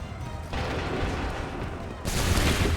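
Musket volleys from massed soldiers in Assassin's Creed 3 crackle and roar as dense, sustained battlefield gunfire that swells louder near the end, with no clear voices over it.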